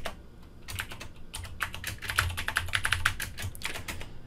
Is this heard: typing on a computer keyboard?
yes